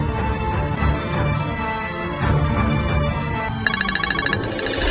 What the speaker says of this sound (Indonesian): Pasti itu telepon dari Ibu Mega